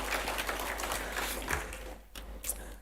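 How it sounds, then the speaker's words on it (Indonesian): A congregation applauds during a Sunday church worship service, with dense sustained clapping that fades briefly near the end before a few final claps. "Tepuk tangan bagi Tuhan."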